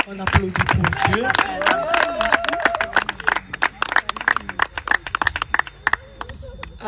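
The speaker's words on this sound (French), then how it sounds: "on applaudit pour Dieu" A gathered audience claps for God, a dense patter of handclaps mixed with several voices talking and calling out close by, growing sparser toward the end.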